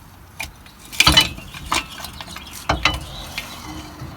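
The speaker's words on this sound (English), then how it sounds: "now we're going to pull out that axle shaft" Metal clunks and clinks as the axle shaft is pulled from a Jeep's Dana 44 axle during repair, a few sharp knocks separated by quieter mechanical rattling.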